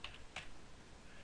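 A few quick keystrokes on a computer keyboard while typing an email, light close clicks with a brief pause between them over quiet room noise.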